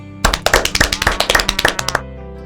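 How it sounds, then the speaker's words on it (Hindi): A small group claps together after a women's nutrition garden meeting, a burst of roughly sixteen close, loud, rapid claps lasting under two seconds before stopping. "सभी लोग अपने लिए एक बार जोरदार ताली बजाएं।"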